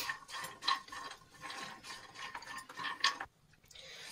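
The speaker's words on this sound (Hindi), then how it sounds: "ये 1/4 कप बादाम ऐड की हूँ, और इसे भी मैं भून लेती हूँ" Almonds roasting in ghee in a pan, a quick clattering rattle of nuts stirred against metal over a soft sizzle, close and steady, dropping away near the end.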